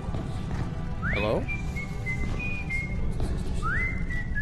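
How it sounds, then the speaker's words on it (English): A person whistles a few rising and sustained tones inside the Metro Awakening VR video game, set against a steady dense background noise, with short pauses between the whistled phrases. "Keep whistling, buddy."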